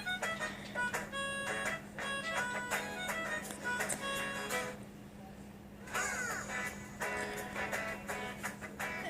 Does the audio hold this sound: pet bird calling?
yes